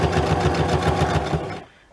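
Sewing machine runs in a steady loud rapid stitching rhythm for over a second and a half, then stops abruptly into near silence.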